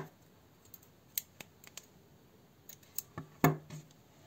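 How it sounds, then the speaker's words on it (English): Scissors snipping yarn after crochet work, a few quiet close clicks and one sharper cut near the end, with no talking. "And now cut yarn"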